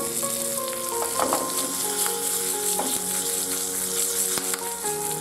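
Asafoetida and curry leaves crackle in hot oil during tempering on a stove, a loud, continuous close sizzle with sputtering pops and light stirring throughout.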